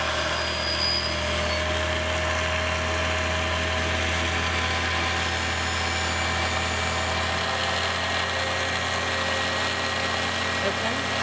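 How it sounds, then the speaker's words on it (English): A continuous high-pitched whir of a small handheld rotary drill boring a hole through sea glass, steady and close throughout with faint voices underneath. "she's drilling now to give us a hole in the center."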